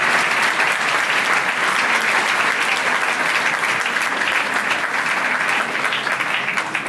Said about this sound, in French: applaudissez-la comme ça